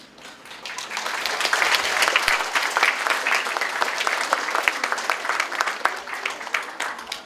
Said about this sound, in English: one final round of applause for all of our posters.